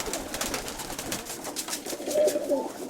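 A young pigeon that has only just started to moult gives a few cooing calls near the end, fairly close, over a steady hiss of ambient noise in a pigeon loft.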